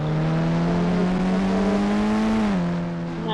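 A car engine in a video game holds a droning, revving tone that climbs slightly, then dips near the end. The sound is loud and continuous, with no talking.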